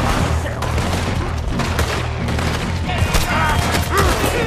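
Gunfight in Red Dead Redemption 2 against a Gatling gunner, a dense volley of loud shots and booms spread throughout, some very close, with faint voices mixed in.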